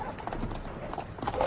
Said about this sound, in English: Let's get on these horses.